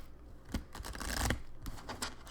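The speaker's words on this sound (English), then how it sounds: "I'm doing a pretty hardcore riffle shuffle with them." Tarot cards riffle shuffled hard, giving a few quick bursts of crisp paper flutter and snapping, close and fairly quiet, with no talking.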